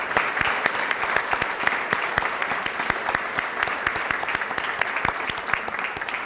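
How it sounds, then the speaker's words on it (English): A crowd applauding continuously, dense clapping from many hands at an even level throughout, fairly close, with no talking over it. "we want to give them a round of applause"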